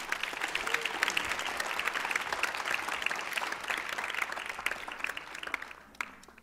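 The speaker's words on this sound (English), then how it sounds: "I think we should give her a big clap" Audience applause at a talk or church gathering, a steady wash of clapping from a crowd that holds for several seconds and then tapers off quickly, heard alone without voices.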